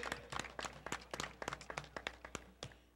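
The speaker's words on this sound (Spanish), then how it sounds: "Fuerte los aplausos, mirando al frente." Audience applause at a horse race awards ceremony, scattered individual claps in an irregular rhythm, fairly faint and distant over a low hum, without any voices.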